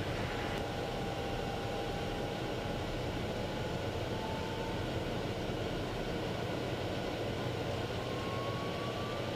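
TBM 850 turboprop airplane running on the ground in South Florida in the early morning, a steady loud broadband engine roar with a faint rising whine, continuous throughout with no talk.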